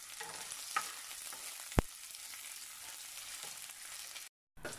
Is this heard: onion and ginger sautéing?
yes